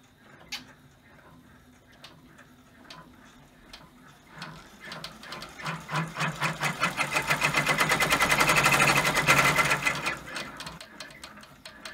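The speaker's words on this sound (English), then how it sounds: "The machine will secure the fabric in place, and then we will pause it to trim around the edges." A home embroidery machine stitches down fabric in place over a spool pin topper design, its needle running in a rapid, steady mechanical patter that swells louder mid-clip and then eases off.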